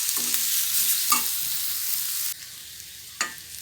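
Elephant foot yam (karunaikizhangu) with salt, sambar powder and turmeric sizzles in a hot pan while a spoon scrapes and stirs it a few times, with a continuous hiss of frying.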